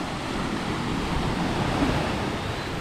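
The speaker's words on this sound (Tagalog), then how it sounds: "Malakas yung alon dito." Strong ocean waves wash steadily against the shore near Coron, a dense continuous roar of surf with wind buffeting the microphone and no voices.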